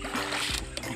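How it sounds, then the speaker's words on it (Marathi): A bucket scoops water and tips it out beside a Konkan fishing spot, making a short splash and gurgle, faint and close, with a little voice in the background. "अशा प्रकारे आपल्याला पाणी बाहेर उपसायचं आहे."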